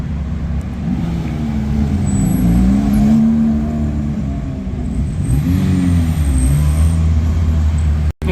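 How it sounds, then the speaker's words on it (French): Steady stream of cars and motor vehicles crossing a bridge over the Moselle in a town by the German border, a continuous near roar of engines and tyres with passing swells and no talk. "Il y a beaucoup de motards aussi qui passent"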